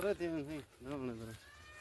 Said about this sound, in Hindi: ये बकरी देख लें।